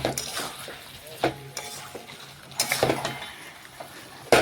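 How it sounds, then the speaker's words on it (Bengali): Mutton with spices is stirred and fried in a kadai, giving a low sizzle broken by several sharp scrapes and clinks of a spatula against the pan, close and fairly loud. "আমি বেশ কিছুক্ষণ আবারও কড়াইয়ের মধ্যেই নাড়াচাড়া করে"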